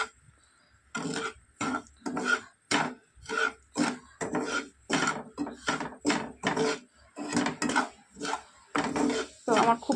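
Semolina halwa with ghee is stirred in a pan, making rhythmic scraping strokes of a spoon against metal, about two per second, close and distinct, with brief quiet gaps between them.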